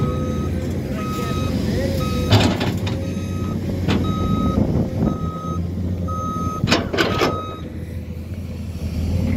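A truck reverses with its backup alarm beeping in a steady, evenly spaced rhythm over a rumbling engine, while people talk nearby.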